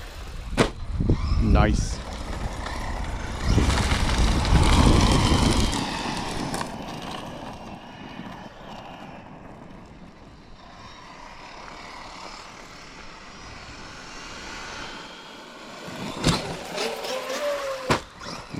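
A Traxxas Maxx Slash 6s RC truck, with no gyro and one unglued tire, driving and jumping, its motor whining loudly in bursts that fade as it moves away, then a few sharp thuds of landings, with a person talking.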